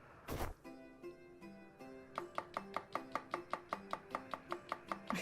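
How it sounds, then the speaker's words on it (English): A knife chops in a kitchen in the Psychedelica of the Ashen Hawk video game, with a rapid, even series of crisp thunks over soft background music. "I'm chopping."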